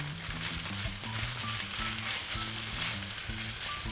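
Eggplant being stirred in a hot pan for spicy braised eggplant: steady, close sizzling and frying with soft scraping of the stirring utensil throughout, no talking.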